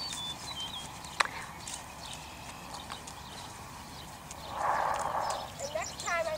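A horse cantering during a riding lesson, its hoofbeats a soft, rhythmic clip-clop at middle distance over outdoor ambience, with birds chirping and people talking faintly in the background.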